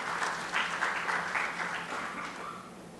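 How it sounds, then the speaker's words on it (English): A conference audience claps for the keynote speaker, with moderate, slightly uneven clapping that stays fairly faint and gradually thins toward the end. "a big round of applause for Mr."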